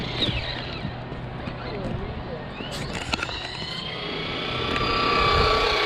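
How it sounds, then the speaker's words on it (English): A Traxxas RC car with a BL-2s brushless motor whines at a high pitch, rising and sliding in tone as it passes by, with crackling and scattered clicks, and a voice talks over it. "I am hearing that motor whine a little bit."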